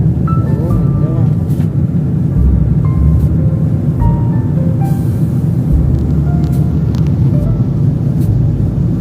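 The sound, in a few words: airplane cabin noise while landing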